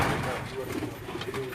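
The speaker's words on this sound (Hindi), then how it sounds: "इसी तरह ये कुछ कबूतर हैं मेरे इस भाई के" Striped pigeons in an indoor rooftop coop in Qazi Ahmed, Sindh, give low throaty cooing that swells and fades in a rolling pattern, close by, over a constant noisy background and faint voices.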